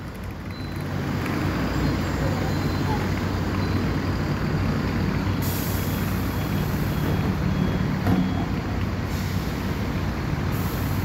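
A Nuovobus Città city bus on line 39 pulls out of the Chacarita terminal, its engine a steady loud rumble with a brief beeping alert and traffic noise around it.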